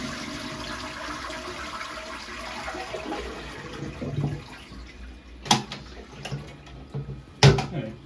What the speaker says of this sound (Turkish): Vanayı kapattıktan sonra hazinin içerisindeki suyu boşaltıyoruz.